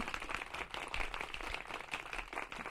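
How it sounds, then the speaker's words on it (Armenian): Faint, steady applause from a crowd at a live broadcast folk song and dance performance, a dense patter of claps continuing evenly throughout. "Ահա, կրկին ծափեր են մեր եթերում"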